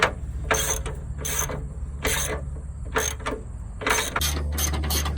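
A hand ratchet works 14 mm bolts loose on a S197 Mustang Shelby GT500 during a parachute mount, giving repeated bursts of clicking with short pauses between them, close and fairly loud.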